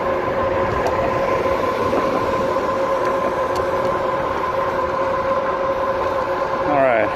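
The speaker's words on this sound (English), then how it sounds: "Let me actually use the throttle now. See what the throttle gives me." A 2018 RadMini electric folding fat bike rides on throttle alone, its hub motor giving a steady close whine with tonal hum over continuous road and wind noise, unbroken throughout.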